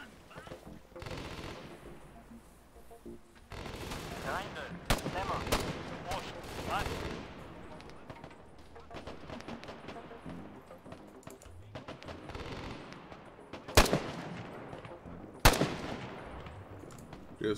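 Gunfire in the military shooter game Arma 3 (Global Mobilization), with a mounted machine gun firing in scattered bursts and two sharp, loud shots standing out near the end, mixed with battle noise and voices talking.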